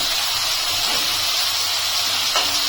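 Water lily stems frying in a pan with poppy seed paste and sugar give a steady, close hiss that holds evenly throughout, with no talk.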